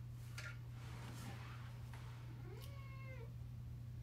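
A house cat meows once with a rising then falling drawn-out call, faint against a steady low hum in a quiet indoor room, preceded by soft rustling.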